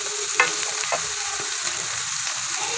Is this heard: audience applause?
no